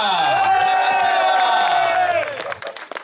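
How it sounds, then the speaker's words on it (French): A crowd at a cycling event in La Rochelle cheers and applauds a third-place rider, with loud whoops and shouting voices over clapping, fading near the end. "Accueillons par un tonnerre d'applaudissements le troisième, Frédéric Moline."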